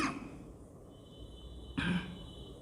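A single throaty cough or throat clear, close and fairly loud, set against a steady low background hum with no talking.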